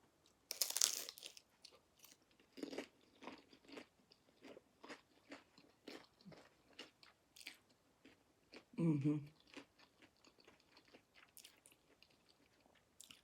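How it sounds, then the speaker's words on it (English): Crunchy bites into a hot Philly chicken egg roll, a loud crackling crunch near the start and another around nine seconds, with softer chewing and mouth sounds in between, close up and without talk. "Let me get into this egg roll though, because I really hope that it's good."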